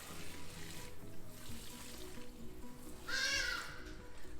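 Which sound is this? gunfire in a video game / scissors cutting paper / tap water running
tap water running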